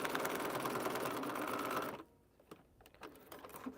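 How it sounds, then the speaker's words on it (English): A sewing machine stitching a paper-pieced quilt block, running fast and loud for about two seconds before stopping abruptly, followed by soft handling noises. "Come over here and sew."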